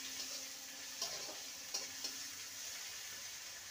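Green chili and ginger paste sizzling in a hot pan for a long beans dish, with a steady fry hiss and a few soft scraping stirs, close and moderately quiet, no voices.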